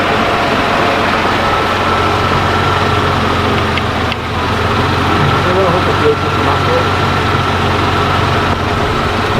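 A Jaguar/Daimler Mk2 hemi-style 2.5 V8, freed after being seized, cranks without starting. It makes a loud, continuous, rough mechanical churn that runs unbroken the whole time, with people talking over it.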